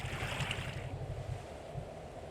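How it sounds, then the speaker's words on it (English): Water rushes steadily over the hatch of a heeling sailing ship at sea in Sail The Seas, a continuous broad wash with a low churning rumble and a brief brighter splash early on, loud and unbroken, without any voices. "that's water just going over the hatch"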